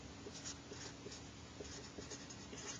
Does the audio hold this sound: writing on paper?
yes